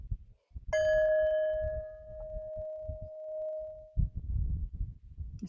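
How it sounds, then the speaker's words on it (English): A small handheld bell is struck once and rings a clear, sustained tone that fades over about three seconds. Speech comes before and after it, and someone talks over the end of the ring. "I want to just ring this bell real quick."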